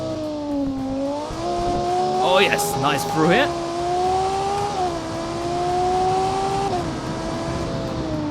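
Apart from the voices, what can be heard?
race car driving fast in BeamNG video game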